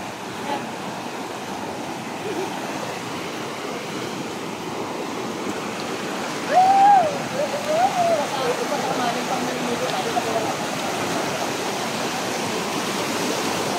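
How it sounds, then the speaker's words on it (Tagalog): A strong river current rushes in a steady, broad, continuous roar throughout, with a brief faint vocal sound rising over the flow near the middle. "Malakas ang agos."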